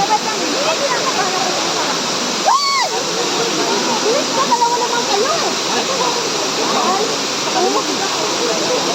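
Daranak Falls in Tanay, Rizal, pouring as a loud, steady roar of falling water that fills the whole stretch, with people shouting and talking over it nearby.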